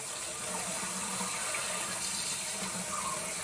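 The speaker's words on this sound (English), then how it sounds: "Just get a little hot water." Hot water pours steadily from a tap into a small tray being washed out, a continuous close rushing splash without pauses and no talking.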